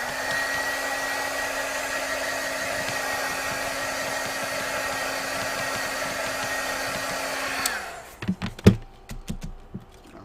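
Heat tool blowing steadily on a wet crafted paper card, a continuous whirring drone that stops near the end, followed by a few sharp clicks and taps.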